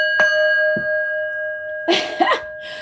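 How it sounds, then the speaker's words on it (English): A bell is struck once near the start, leaving a steady ringing tone that sustains through the clip, with a second light knock and some brief rustling noises toward the end. "Let's ring the bell."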